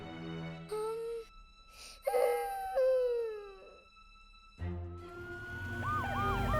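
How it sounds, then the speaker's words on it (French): Cartoon emergency vehicles, a fire truck, an ambulance and a police car, sound rising and falling sirens in overlapping wails, with some music underneath. "elle a amené Ashley le camion de pompiers, Amber l'ambulance et Otis la voiture de police avec elle"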